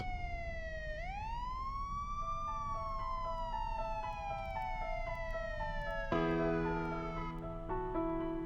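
Police car siren in a horror video game wails loud and close, rising then slowly falling, with a second siren tone joining near the end over steady background noise.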